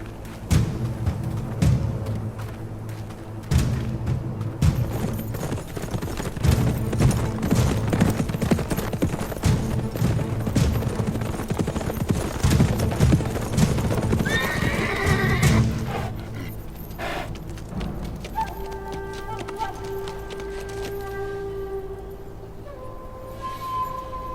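Horses' hooves clip-clopping in a period drama setting, a steady loud trotting rhythm with neighs and whinnies over a music score, fading into quieter sustained tones after the midpoint.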